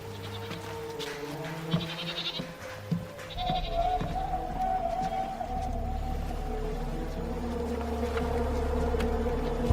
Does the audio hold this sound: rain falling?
no